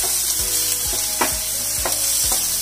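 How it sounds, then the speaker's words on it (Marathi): Ginger garlic paste sizzles and fries in a hot pan for egg bhurji, a steady crackling hiss broken by several short stirring scrapes, close and with no talking. "1/2 चमचा आलं लसूण पेस्ट, 1/2 लसूण पेस्ट छान परतून घेऊया"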